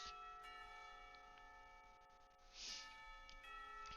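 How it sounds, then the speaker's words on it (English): A school lunch bell rings in the visual novel Katawa Shoujo, a sustained bell-like chime heard over a steady tonal music background, with no speech. "The lunch bell rings"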